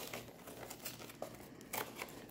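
A Shining Fates card box is opened slowly and carefully, giving soft, close crinkling and rustling in brief bursts against a quiet background.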